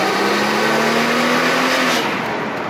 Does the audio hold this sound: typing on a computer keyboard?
no